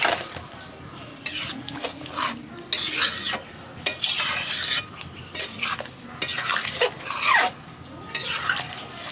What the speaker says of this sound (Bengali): আবার নেড়ে দেবো এটাকে।